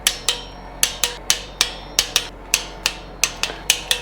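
A torque wrench tightening bolts on a motorcycle's clear cover gives a string of sharp, close metallic clicks at an uneven, fairly quick pace, each one ringing briefly, with no voices.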